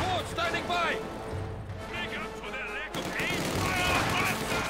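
Machine gun fire in the World War II strategy game Company of Heroes 2, a 2v2 match: rapid gunfire bursts mixed with game effects under continuous commentator-style talk.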